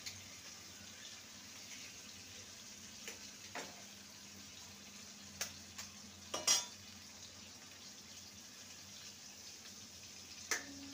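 Eggs being stirred and fried with spice masala in a pan, a faint, low sizzle underneath with a few sharp clinks and scrapes of the utensil against the pan at irregular moments.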